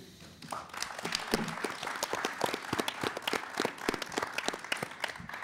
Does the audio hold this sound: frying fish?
no